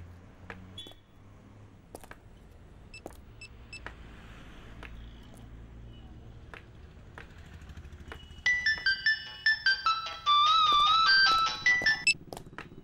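Electronic mobile phone ringtone plays as a bright, repeating melodic tune that begins partway through, loud and close, after a stretch of faint room sound and a few scattered clicks.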